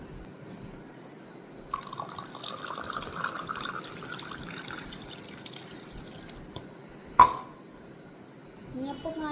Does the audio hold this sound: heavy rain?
no